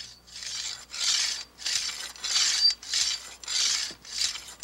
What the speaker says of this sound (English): That's a hedge trimmer.